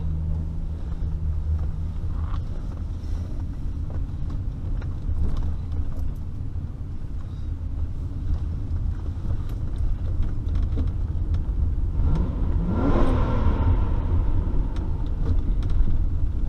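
A 1996 Lexus LS400's 1UZ V8 engine rumbles steadily with wind noise, then rises briefly in a smooth rev before settling back to a low drone.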